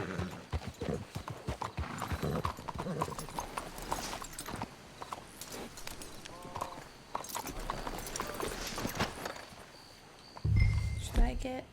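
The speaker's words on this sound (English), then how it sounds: "Let's hitch the horses up ahead." Horses in Red Dead Redemption 2 trot with rhythmic, steady clip-clop hoofbeats and a brief snort or whinny near the end, under ongoing talk.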